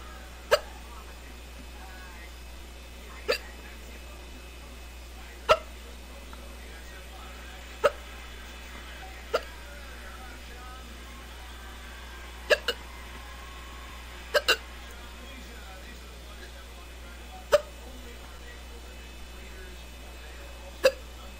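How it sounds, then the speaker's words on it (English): A person's strong, persistent hiccups, roughly a dozen sharp isolated catches spaced a second or few apart over steady low background noise, with no talking. "This has got to be the strongest case of hiccups I've had in a long time."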